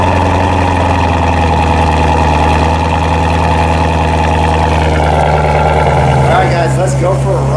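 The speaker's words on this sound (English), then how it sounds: "let's do a cold start and let's get going" Chevrolet Corvette engine idling after a cold start, a steady loud low rumble with a constant hum that shifts slightly near the end, close and continuous with no talk over it.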